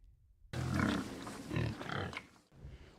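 Pigs kept by a farmer in a forest area grunt up close in a couple of rough, low bursts over about two seconds, with no talk.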